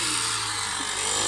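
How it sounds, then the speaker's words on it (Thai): A brush cutter cuts through a rice field during harvest, its small engine whining at a loud, steady pitch up close, with no voices heard. "ใส่เครื่องตัดหญ้าเกี่ยวนี่จะไวพอสมควรนะพี่น้อง"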